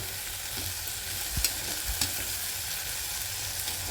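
Green turkey berries sauté in a pan, giving a steady, even sizzle with a couple of faint stirring scrapes, close and continuous, with no speech.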